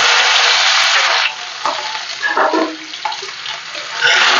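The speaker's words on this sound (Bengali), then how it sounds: "রসুনটা আমার পুরো লাল লাল করে ভাজা হয়ে গেছে" Crushed garlic and two dried red chillies fry in hot oil for a taro-leaf (kochu shak) dish, giving a loud, steady hiss that dips and crackles as the pan is stirred, then swells again.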